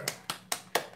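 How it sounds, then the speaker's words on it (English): Five crisp, evenly spaced hand claps ring out close and fairly quiet during a live-streamed concert celebration held from lockdown. "Maybe if we make applause."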